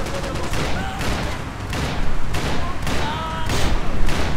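In the video game Max Payne 3, a grenade explodes amid heavy gunfire: rapid bursts of shots and booming blasts crowd together in a loud, dense, close barrage throughout.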